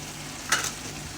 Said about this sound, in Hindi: अब मैं इसको अच्छे से मिक्स करती हूँ